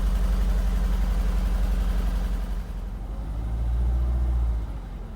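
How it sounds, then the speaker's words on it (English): A cold Ford ST170 engine with its original exhaust idles steadily, a low rumbling tick-over that dips slightly partway through and carries a faint uneven chug. "I'm just going to let it tick over because that oil needs to get around the engine"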